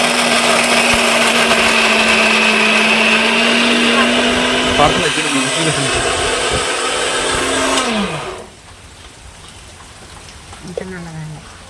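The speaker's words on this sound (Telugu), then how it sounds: "అవన్నీ నేను తెచ్చుకుని మిక్సీ పట్టుకుంటానండి" A mixer grinder grinds spices, whirring loudly and steadily for about eight seconds, its motor pitch sagging as it winds down, then stops, leaving a few faint sounds.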